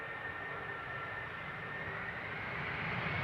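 Airbus A330 landing on runway 18R at Amsterdam Schiphol, a steady broad jet engine roar holding level and swelling slightly toward the end, heard from a distance.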